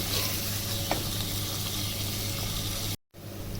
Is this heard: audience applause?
no